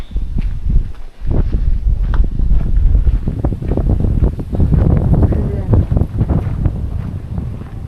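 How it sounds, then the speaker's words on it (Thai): Strong wind gusts loudly against the microphone on an Austrian mountainside, a steady roaring buffet with a few footsteps. "คิดว่าเพื่อนๆจะได้ยินเสียงลมนี่แหละลมพัดแรงมากนะคะ"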